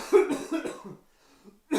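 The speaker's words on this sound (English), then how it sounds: "why are you coughing" A person coughs several times in quick succession, close to the microphone, then pauses briefly before another cough begins.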